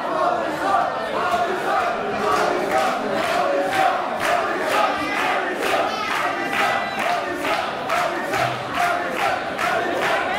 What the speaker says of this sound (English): Crowd firmly behind Madison Morgan here